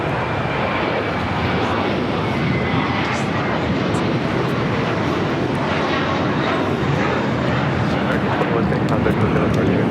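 A jet airliner roars loudly and steadily at LAX, engine noise filling the whole stretch as a plane arrives or takes off, with an air-traffic radio voice talking over it.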